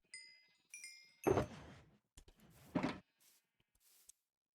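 Video game sheep bleat twice, loud and close, with softer short bleats and shuffling between them and trailing off at the end.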